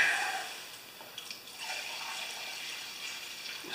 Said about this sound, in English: I'm going to stick a little bit of premium fuel in there and rinse it out